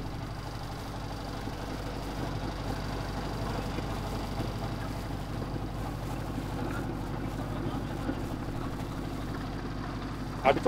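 A trawler boat's engine drones on the Buriganga River in Dhaka, a steady, unbroken low rumble with wind noise over it, close and constant with a small knock at the very end.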